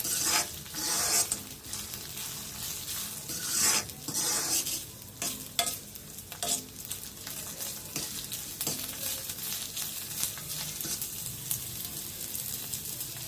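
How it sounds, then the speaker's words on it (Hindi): Rice grains being roasted and stirred in a pan over low heat, a steady dry scraping and rustling with soft sizzle, close and continuous, with no talking. "भून ला 1-2 मिनट तक अच्छे से भून लो यूँ तो धीमी आंच पर।"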